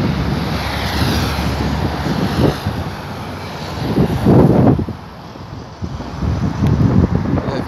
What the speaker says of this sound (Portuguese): Vento bastante forte, mas ainda um vento seco, sem chuva.